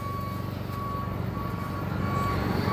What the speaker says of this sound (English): There goes a garbage truck in the middle of the night picking up commercial garbage.